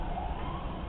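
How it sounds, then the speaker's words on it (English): Emergency sirens wail outside, a continuous muffled wash of siren tone and traffic rumble heard from a distance through walls. "So they hear the sirens, of course."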